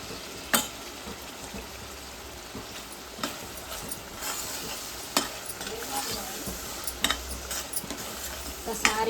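A Telugu village fish curry made with a large fish is stirred in a pan, giving a soft, continuous bubbling sizzle broken by several sharp spoon taps and scrapes against the metal, fairly quiet and close.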